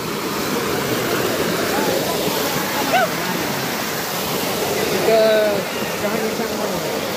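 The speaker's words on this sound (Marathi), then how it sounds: "तर बारक्या धबधब्यापाशी आपण आलेलो आहोत." Steady rushing water from a small waterfall fills the scene, with a voice talking over it and a couple of brief whistly sounds.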